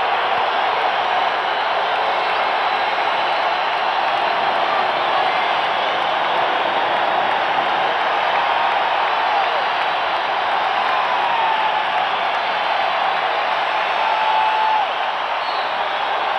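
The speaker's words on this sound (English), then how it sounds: "This crowd trying to get the Bulls going right here." A basketball arena crowd cheers for the Bulls during the 1989 Eastern Conference Finals Game 3 against the Detroit Pistons: a steady, dense wall of roaring voices that holds loud and unbroken throughout.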